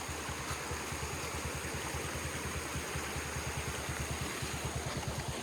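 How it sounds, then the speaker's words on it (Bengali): Water from a hillside waterfall and stream in a Malaysian village rushes in a constant, even roar, close and steady without pause. "এটা হয়তো বা পাহাড় থেকে ঝর্ণার পানি দিতেছে, আপনি হয়তো বা শব্দ পাইতেছেন"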